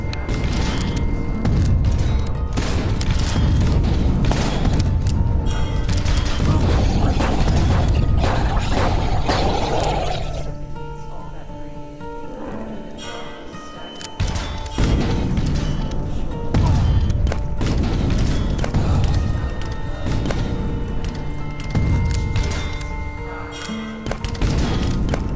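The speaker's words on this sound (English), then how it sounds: "For each of the weapon assets, I used multiple sounds and randomization in Fmod to ensure a varied in-game experience." Weapon effects from the first-person shooter Sauerbraten, built with layered, randomized sounds: loud booming blasts, rapid gunfire volleys, crashes and mechanical clanks follow one another closely, with a brief quieter stretch in the middle.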